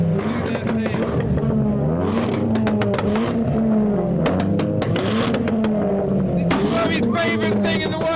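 A 500hp Toyota Chaser revs hard while pulling away from a car meet, its engine note rising and falling in loud, sustained sweeps with crowd noise and voices around it.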